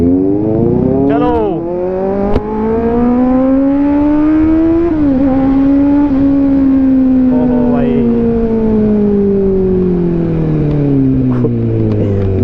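A Kawasaki Z900 motorcycle accelerating across a bridge, its loud, close engine note climbing steadily through the gears, then easing and falling away as the revs drop.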